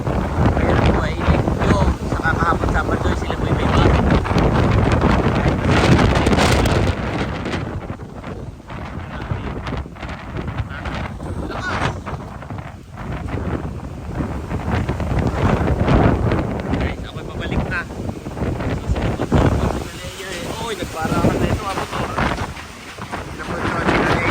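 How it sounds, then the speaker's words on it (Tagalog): Strong typhoon wind roars and buffets the microphone in heavy, continuous gusts, rising and easing over time, loud and close. "ang lakas ng hangin"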